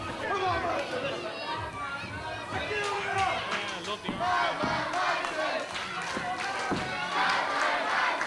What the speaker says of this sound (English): And this crowd chanting for the insane one.